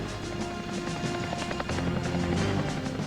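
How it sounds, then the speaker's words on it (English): A military helicopter lifts off at a mountain warfare training landing zone, its rotor thumping in a fast steady pulse, loud and close throughout. "We huddled again as the helicopter took off."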